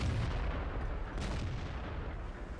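Artillery fire in a tank battle video game on a swamp map, a dense continuous rumble of low booms and blasts with a steady heavy roar throughout.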